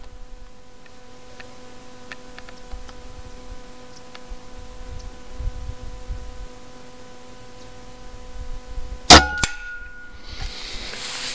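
A single sharp report from a Kral Bigmax air rifle cracks out late in the clip, loud and close, after a long stretch of quiet hum and faint ticks.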